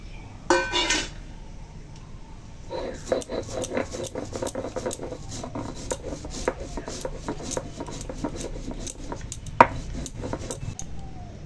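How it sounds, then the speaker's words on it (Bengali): Cumin seeds being ground into a paste, heard as a brief scrape at first, then a long run of quick, rhythmic rubbing and grinding strokes, fairly close and with no talk. "এখন একটু জিরে বেটে নেব।"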